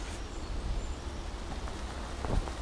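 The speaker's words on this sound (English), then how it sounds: "Now it starts raining again." Rain falls outdoors along an overgrown path, a soft continuous patter and hiss with a low rumbling background and a few slightly louder drops near the end, with no talking.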